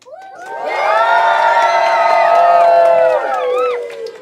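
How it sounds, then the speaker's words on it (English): A large group of Scouts cheers loudly for an astronaut, a sustained chorus of children's shouts and whoops that swells quickly, holds for about three seconds, then tails off. "I want to see how loud you can cheer"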